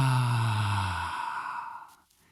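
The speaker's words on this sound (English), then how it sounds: "as you hear from my out breathing, I make a little bit of sound with it" A long, audible out-breath during a breathing exercise, close and breathy with a faint voiced hum at the start, fading gradually to quiet.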